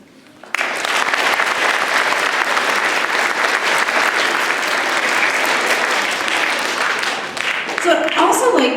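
An audience at an elementary school D.A.R.E. graduation breaks into steady, dense applause after a brief quiet start, and it fades slightly near the end.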